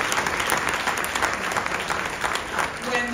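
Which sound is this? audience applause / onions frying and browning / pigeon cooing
audience applause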